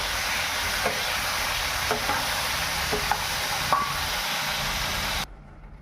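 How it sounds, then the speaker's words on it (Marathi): Cashews and raisins sizzling in a hot tempering for carrot halwa, a steady close frying hiss with occasional stirring clinks, cutting off abruptly near the end. "आता बघूया, आपण देऊया काजू आणि मनुकेचा तडका।"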